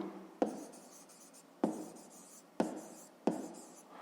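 A pen writes a digit by hand on paper, four sharp taps of the tip landing at spaced intervals, each followed by a short scratchy stroke, close and quiet with no talk.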